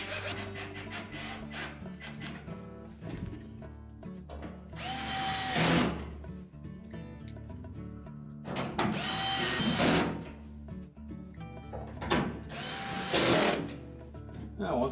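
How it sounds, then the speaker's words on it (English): Power drill driving screws into the back panel of a Whirlpool washer, three loud whirring bursts of a few seconds each, separated by quieter clicks and handling of the metal panel. "Then just line up the screw holes and install the screws."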